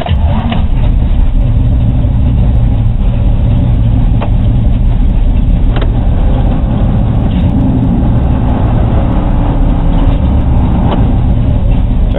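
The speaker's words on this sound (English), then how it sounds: "Fire the truck." A 1982 Chevy truck engine being started and running loud and close, a constant heavy rumble and roar throughout with no voices.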